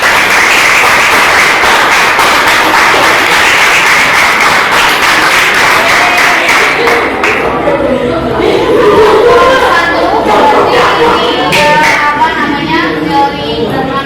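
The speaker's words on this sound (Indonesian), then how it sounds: "tapi sebelumnya aplaus dulu buat kelompok 3" Indonesian classroom group applauding another student group, a dense burst of clapping with cheers that thins out partway and gives way to scattered claps and chatter from children and adults.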